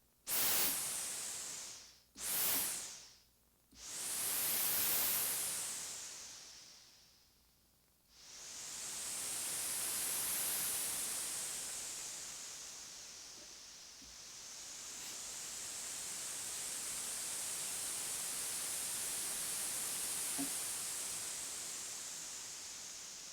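Noise from a 1979 Korg Sigma synthesizer, several quick hissing bursts followed by a long whooshing swell with slow attack and lingering release, soft, steady and alone.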